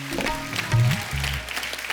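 A studio audience applauds a singer on a TV comedy show, dense, loud clapping that runs the whole time beneath musical tones.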